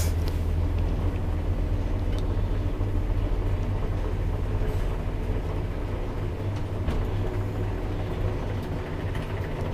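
A Kone chain-driven elevator in a Sienimäki, Imatra apartment block runs slowly, a steady low mechanical hum and rumble from start to finish, with faint clicks riding over the constant drone.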